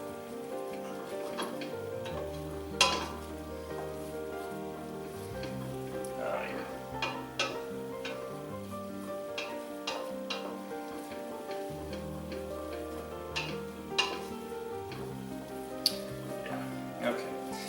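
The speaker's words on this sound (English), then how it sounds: "I cut up the onion a little finer, so it's going to cook a little faster" Finely cut onion cooks in a pot for lobster bisque, giving a soft steady sizzle with light ticking pops beneath background music and someone talking.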